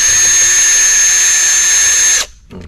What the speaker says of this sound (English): I went to a drill. A little easier, a little faster.